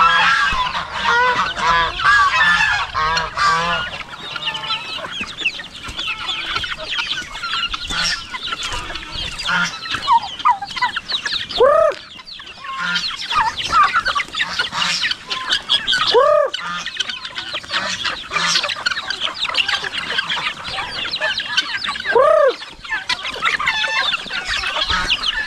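Loud, repeated honking from a flock of geese close by, mixed with clucking fowl, continuing in irregular bursts throughout.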